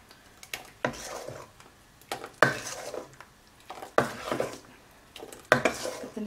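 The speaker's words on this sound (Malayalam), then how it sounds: "നന്നായിട്ട് മിക്സ് ചെയ്ത് കൊടുക്കുക." Unniyappam batter being mixed in a pot: a utensil knocks and scrapes against the vessel in rhythmic strokes about every second and a half, each starting with a sharp clink, close by and without speech.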